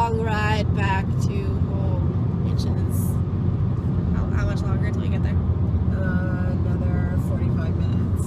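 A car on a long drive home gives a steady low rumble of engine and road noise throughout, with people chatting over it.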